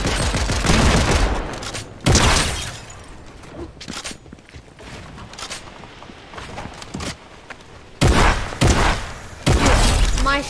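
Heavy sniper fire in Fortnite, with loud sharp bursts of shots and crashing impacts amid rapid in-game action, the blasts coming in clusters between quieter gaps.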